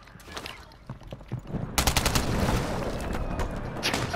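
Heavy bursts of gunfire from Call of Duty, scattered shots at first, then sustained rapid automatic fire from about the midpoint, loud and dense, with no talk over it.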